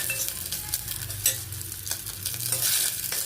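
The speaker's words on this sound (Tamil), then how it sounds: "உளுத்தம்பருப்பு, நல்லா வறுத்துக்கலாம்." Dry urad dal crackles and rustles as it roasts in a hot pan, with steady sizzling and scraping stirs throughout, close and fairly quiet, no voices.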